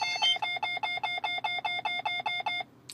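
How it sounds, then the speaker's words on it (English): Rocky Mountain Radar C495 radar detector sounding an alert to a radar gun in pop mode, a rapid, regular train of loud electronic beeps, about fourteen in quick succession, then stopping. "the radar gun itself took itself out of pop mode, and then the detector alerted"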